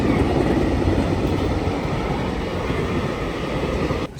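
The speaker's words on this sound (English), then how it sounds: "At least the freight trains are running." A freight train rumbles past in a snowstorm near Kamakura, Japan, kicking up snow. Its steady, close, broad roar persists until it cuts off abruptly just before the end.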